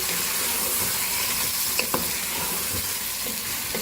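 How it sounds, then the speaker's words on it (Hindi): Chopped tomatoes and green chilies sizzle hard in a pan over high heat while cooking chicken yakhni pulao, a steady close crackling hiss with faint stirring scrapes and no voices. "2 मीडियम साइज़ के टमाटर लिए थे, हरी मिर्चें शामिल करेंगे। इसको जरा भूनेंगे तेज़ आंच से।"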